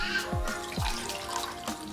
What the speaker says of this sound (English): let me just pour myself another little bubbly